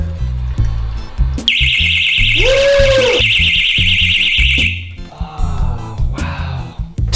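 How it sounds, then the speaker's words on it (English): A water leak detector alarm: a loud, continuous high-pitched electronic shrill for several seconds, with a second tone warbling beneath it, then cuts off amid handling clatter. "If it means that your house is flooding, that's a pretty good alarm."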